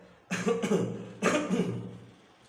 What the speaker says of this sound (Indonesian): Aduh, sorry batuk teman-teman.